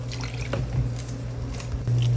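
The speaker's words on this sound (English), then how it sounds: "we're going to go ahead and add some water any second now" Water, about a cup, is poured into a hot pan while a vegan breakfast taco filling cooks, giving soft wet squishing and dripping over a steady low hum from the stove.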